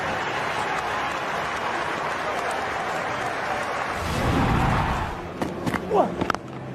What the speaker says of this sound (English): They've done a lot of clapping.